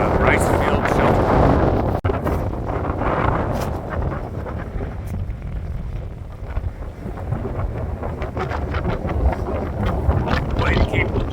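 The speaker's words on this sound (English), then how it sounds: "It's cold and blustery up here." Cold, blustery wind buffets the microphone outdoors near a rice field shelter on a long-distance hike, a steady loud rumble with gusting surges throughout.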